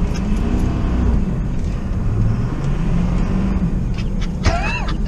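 A 6.0 Powerstroke dually pickup truck drifts in the snow, its engine a loud, continuous, close rumble that holds steady across the whole stretch.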